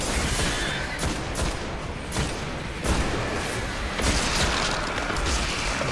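Heavy, continuous gunfire in the shooter Destiny, with dense rapid shots and booming impacts mixed with mechanical clatter, loud and without speech for several seconds.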